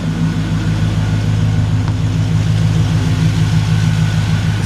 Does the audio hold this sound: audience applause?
no